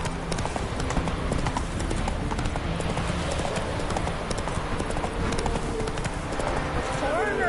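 Geralt's horse Roach trotting in The Witcher 3 on PS5, steady rhythmic hoof clip-clops mixed with game ambience, with a voice speaking over them.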